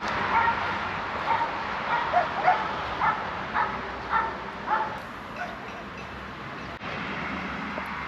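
In Romania, a dog holding a big pink toy in its mouth gives a run of short yips and whimpering cries at moderate distance over a low background hum.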